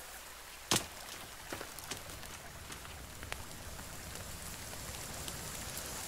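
Drizzling rain falls in the video game The Forest, a soft steady patter with scattered droplet ticks, plus one sharp click early on, faint and continuous with no talking.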